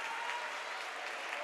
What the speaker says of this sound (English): nice ovation from the crowd here